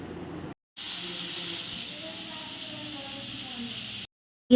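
Shrimp and vegetables fry in hot oil with a steady, loud hiss and crackle that holds for several seconds after a brief gap, with a soft voice faintly underneath.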